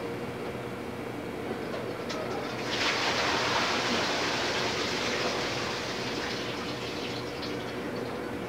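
Water pours from an emptied dehumidifier bucket, a broadband splashing rush that swells loud around the third second and runs steadily for several seconds before easing, alone with no talk.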